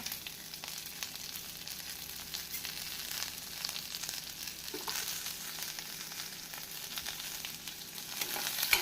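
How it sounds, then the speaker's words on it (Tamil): Onions sautéing in a pan for tomato chutney give a steady, moderately loud broadband sizzle with faint stirring clicks, continuous throughout with no talk. "நாம் வெங்காயம் இப்படி வதங்கும் போது அடுப்பின் தீயை மிதமாக வைத்துக்கொள்ள வேண்டும்"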